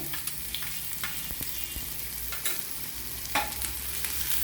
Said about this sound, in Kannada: ಒಂದು ಎರಡು ನಿಮಿಷ ಫ್ರೈ ಮಾಡ್ಕೋಬೇಕು ಈರುಳ್ಳಿ